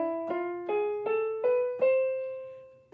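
Single notes of the Ionian sharp 5 scale step upward one at a time, five plucked tones each ringing briefly, slow and evenly spaced.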